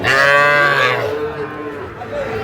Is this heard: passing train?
no